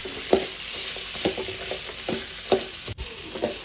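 Dried red chillies and Byadgi chillies frying with grated coconut in a pan for a chicken curry, a constant close sizzle broken by repeated scraping stirs and a clunk of the spatula, with no voices.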